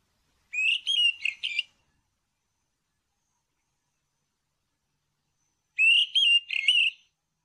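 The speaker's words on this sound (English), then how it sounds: "A red-capped robin chat. This little birdie loves to sing beautiful songs" A red-capped robin-chat sings two short, clear phrases of bright whistled notes, each about a second long and separated by a long silent pause, heard close and alone.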